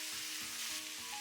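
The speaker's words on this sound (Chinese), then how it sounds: "接着把炒好的芹菜杆子和杏鲍菇全部加进来" Celery stalks and king oyster mushrooms sizzle steadily in a hot stir-fry pan, a bright, even crackle with faint stirring clinks, close and continuous without talk.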